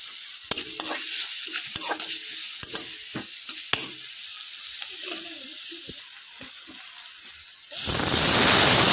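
Cabbage curry fries in a pan with a continuous sizzle and repeated scraping stirs, then a louder, broader hiss swells up near the end.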